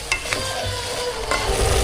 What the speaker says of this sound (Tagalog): Gisa-gisa lang natin muna ito.